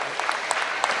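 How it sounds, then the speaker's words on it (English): A short burst of clapping from the audience at a sheep show, dense and lively, with many hands together at close to moderate distance. "That deserves a round of applause."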